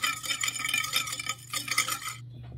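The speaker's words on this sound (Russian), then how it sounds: "Еще раз хорошенько размешиваем." Cookie dough base with salt and sugar being stirred briskly in a bowl, a steady close scraping swish for about two seconds before stopping abruptly.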